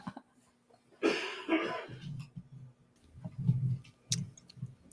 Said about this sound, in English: Sorry about my coughs